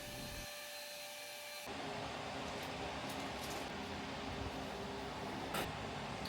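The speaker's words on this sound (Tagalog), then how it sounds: "Nagdidry lang ako ng hair." A hair dryer blows steadily on hair, its broad airy whoosh swelling louder after a low hum at the start and then holding a constant close-up drone indoors.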